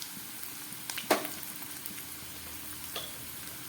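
Half-boiled potatoes with turmeric and salt frying in a pan, a soft steady sizzle with a brief louder crackle and stir near the start and another small clatter later.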